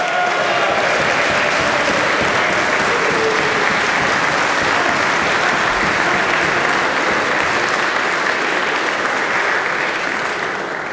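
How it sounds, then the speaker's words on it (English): Lawmakers on the House floor applaud a representative's family and new baby son, a loud, sustained wash of clapping from a large chamber that holds steady throughout. "Could you give them a big round of applause?"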